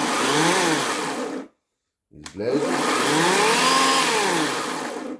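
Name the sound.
Einhell GE-LC 18/25 cordless chainsaw running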